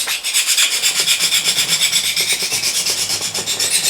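A knife blade is drawn repeatedly across an abrasive file in quick, even back-and-forth rasping strokes, close and loud, about eight scrapes per second with no talking.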